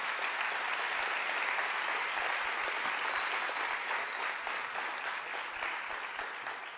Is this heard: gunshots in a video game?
no